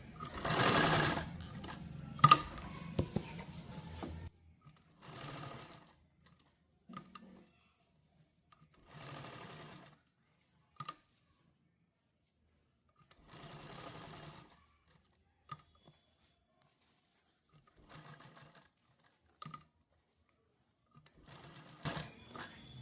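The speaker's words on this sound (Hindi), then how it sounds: "इसलिए मैं ये वाली इस पर सिलाइयाँ लगा रही हूँ।" A sewing machine stitches a small leaf design onto a salwar hem, running in short bursts of rapid clatter separated by pauses, close and fairly loud at first, then quieter intermittent runs.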